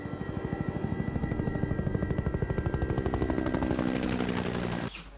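A helicopter's rotor thumps in a rapid, steady pulse at dawn in a scene from The Sixth Sense, loud and close, with a drone rising beneath it before cutting off abruptly near the end.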